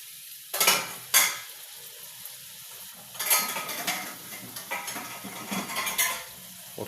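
Chicken pieces tipped into a pot of aloo shorba curry base and stirred, with a few sharp clattering bursts of metal spoon against pot followed by steady sizzling and scraping, close and fairly loud, no talking.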